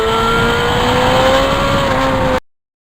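A 1991 Yamaha FZR 1000 motorcycle engine runs loud and close in a steady, throaty drone with a constant pitch, then cuts off abruptly near the end.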